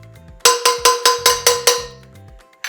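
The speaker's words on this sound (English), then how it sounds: "the iron paddles working on the flat plate, chopping up the roti and all the vegetables that make Kottu roti" Iron paddles clang rapidly on a flat griddle while chopping kottu roti with vegetables on a Colombo street, seven sharp ringing metallic strikes in a quick rhythm, then a pause and one more hit, loud and close.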